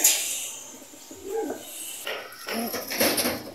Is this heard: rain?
no